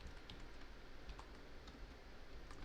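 Quiet, quick keystrokes tap on a computer keyboard as a value is typed, a soft irregular clatter of clicks at close range with no voices.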